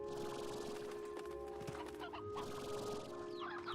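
Painted hens clucking in the video game Slime Rancher, a steady run of close chicken clucks and squawks over a constant game background hum.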